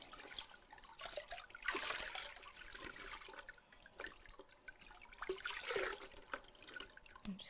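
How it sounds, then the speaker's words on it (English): Ice-cold water poured over bare feet after a warm foot bath, splashing and trickling in uneven surges with brief pauses, fairly close and moderately loud, with no speech. "then you take your cold, ice cold water, and we're going to do a cold pour"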